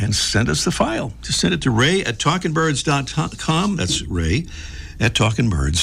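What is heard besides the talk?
No distinct noise like a dog, phone or traffic.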